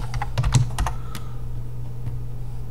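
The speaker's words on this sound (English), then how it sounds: "I'm going to type Microsoft Security Essentials." A handful of quick keystrokes tap on a computer keyboard up close, clustered in the first second with a couple of later isolated taps over a steady low hum.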